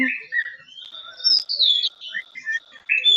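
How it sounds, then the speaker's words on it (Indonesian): Several bird chirps and whistled calls sound in quick bursts, fairly close and clear, with brief gaps between them and no talking. "Suara burung."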